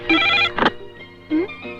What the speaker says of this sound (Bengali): ফোনটা রিসিভ করলো কে রে ডলি?